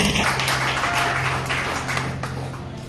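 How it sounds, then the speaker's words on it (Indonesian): Church congregation applauding together during a sermon, a steady wash of clapping that fades slightly toward the end, with a low hum underneath. "Tepuk tangannya bagi Tuhan."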